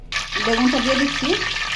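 Large eggplant pieces dropped into hot oil, setting off a steady, close sizzle and frying crackle that stays loud through the whole stretch with no talk over it.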